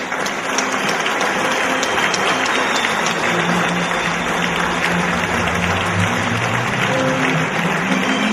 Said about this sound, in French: Merci d'applaudir Marie Renz,